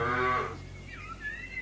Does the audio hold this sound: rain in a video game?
no